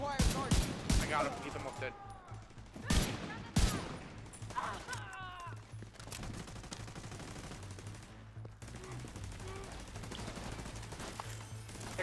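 Shotgun blasts and other gunfire in The Division 2 on PS4, with several loud sharp shots early on and then a steady din of firing, while players talk excitedly throughout.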